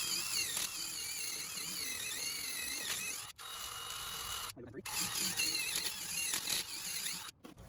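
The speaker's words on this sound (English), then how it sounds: "let's get the wire brush and clean that out" A wire brush scrubs out the lower ball joint bore on a Chevrolet Silverado 4x4, a faint continuous whirring buzz. It breaks off briefly a few times, then resumes.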